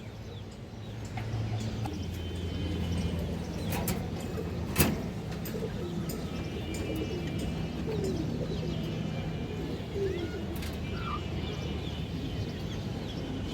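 Fancy Baghdadi and Gorra pigeons coo in a soft, rolling chorus at moderate distance, steady and low with occasional clicks and a brief sharp knock midway, no talking.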